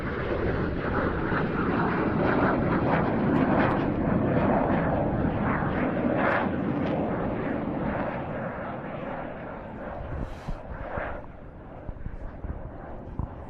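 A Jet Provost jet trainer passes over the Duxford air show, a loud steady jet roar filling the air that gradually fades as it moves away, with a commentator's voice faintly under the noise.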